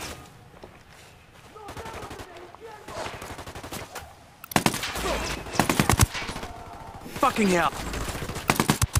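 Bursts of loud automatic gunfire crackle in Ghost Recon Wildlands, building from scattered shots to dense, close volleys in the second half, with a man swearing and other voices in between.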